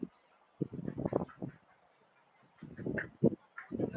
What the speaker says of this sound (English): Somebody's feeding the ducks, that's why.